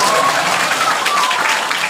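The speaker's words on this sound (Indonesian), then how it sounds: "Tepuk tangan atuh." A crowd claps steadily during a Sundanese Islamic sermon, producing a dense, loud wash of applause that holds at an even level throughout.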